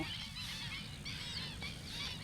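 Several water birds, including ducks, honk and call repeatedly over a steady outdoor background near rice fields, the calls fairly faint and overlapping.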